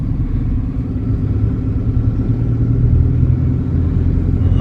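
A truck rolling along a road, its engine a loud, continuous low rumble heard from inside the cab, steady throughout with no voices.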